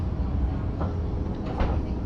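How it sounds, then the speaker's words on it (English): Interior of a moving train in Israel: a steady low rumble of the carriage rolling along the rails, with faint rattles and creaks, no talking. "The train is moving now."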